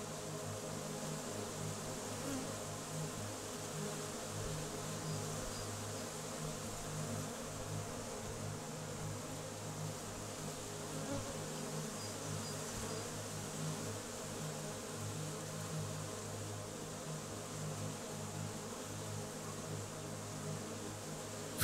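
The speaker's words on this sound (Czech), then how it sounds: "Včely jsou jedním z nejdůležitějších tvorů naší planety." Honey bees buzz in a steady, dense drone that holds at an even level throughout, with no voices and no clear breaks.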